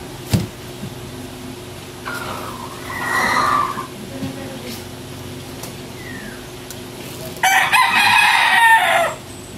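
A rooster crows twice, a short call early and a louder, longer crow near the end, over faint background noise and distant voices.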